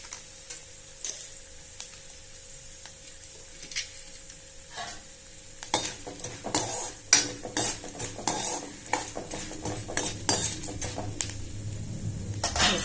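Cumin seeds and black pepper crackle and sizzle in hot oil for a tempering, with scattered sharp pops and a spoon stirring and clinking against the pan, close and without voices.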